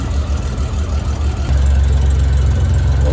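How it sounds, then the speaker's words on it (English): A 1997 Honda Goldwing GL1500 motorcycle engine idling at around 800 to 850 RPM during carburetor synchronization, giving a steady low rumble that is close and loud and gets slightly heavier partway through. "it's running right around 800, 850 RPM"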